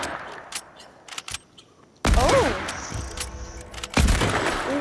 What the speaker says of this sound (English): You shot the guns